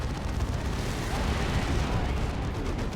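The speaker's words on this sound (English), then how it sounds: "a nice plasma cannon hit" A plasma cannon hit in the Dawn of War 2 strategy game lands as a dense, rumbling blast of low explosive noise, sustained and heavy for about three seconds with no break.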